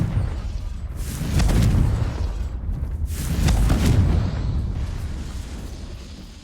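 Two heavy, rumbling blasts from the Confringo fire spell in the video game Hogwarts Legacy, each swelling and fading with deep booms and crackle. A lingering roar carries on between and after them.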